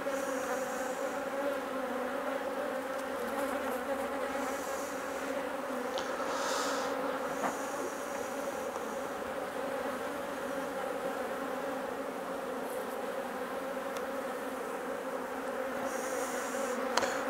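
Honey bees buzz steadily over a hive frame during a queen check, a dense continuous drone at close range with no one speaking.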